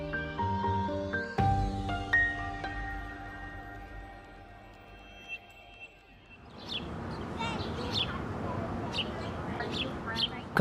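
Birds chirp and tweet in Wave Hill garden in New York, with bright, scattered calls over soft outdoor ambience in the second half, after a stretch of tonal music.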